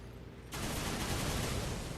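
A heat-seeking gun in Darksiders 2 opens up half a second in, firing continuously in a dense, loud barrage of explosive blasts that runs steadily to the end, with no voices.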